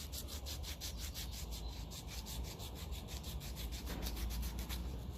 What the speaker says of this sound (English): I might just get a bit of fine sandpaper and just see if I can improve that a bit